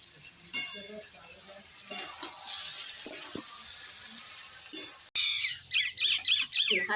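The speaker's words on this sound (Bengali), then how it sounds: "দিয়ে আর একটু ভালো করে সবজিটা ভেজে নেবো।" Vegetables fry with chopped tomato and grated ginger for sabudana pulao, a constant close sizzle broken by stirring taps, then a few seconds of someone talking.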